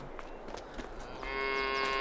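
Cattle in the Farming Simulator 22 video game give a drawn-out moo that rises in the latter half, preceded by softer clinks and rustles of the herd nearby.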